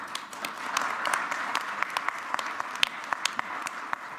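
Audience applause honoring electrical engineers who restored a power system, a dense patter of clapping with scattered louder claps, steady and fairly close for the whole stretch, with no one talking.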